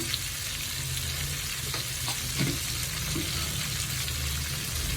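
Chili powder made from large dried chilies frying in hot oil for an amla (gooseberry) pickle, a steady close hiss and sizzle with a few soft stirring scrapes, no talking.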